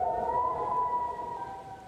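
Tinker Air Force Base siren sounds as a steady, sustained wailing tone, faint and distant across a neighborhood, with no voices.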